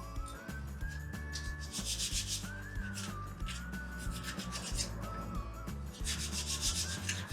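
Sandpaper rubbed by hand across small wooden pieces for a distressed finish, giving a close, steady scratchy swishing in repeated back-and-forth strokes, with a faint tonal whistle in the background and no talking.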